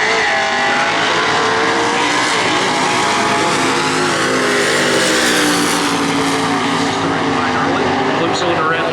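A 1969 Camaro 350 with automatic transmission at a drag strip, loud rising engine roar and broad noise filling the whole stretch, with an announcer talking over it.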